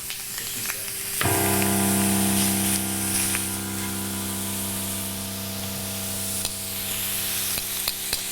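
Thin skirt steak hits a very hot grill with a sudden loud sizzle, then a steady, close spitting hiss that holds for several seconds with faint clicks and clatter behind it.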